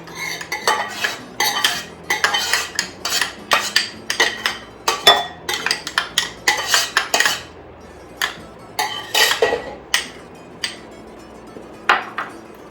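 Crumbled Greek feta, freshly chopped dill and Greek yogurt are stirred together in a bowl, a utensil clinking and scraping against the sides in irregular close bursts with short pauses between strokes.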